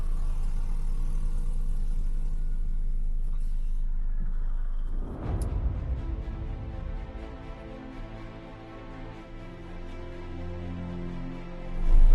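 Motorbikes and cars labor up the steep mountain road of Zojila Pass, a continuous engine rumble with one vehicle swelling close and passing midway, then another engine roaring up loudly at the very end; no one speaks.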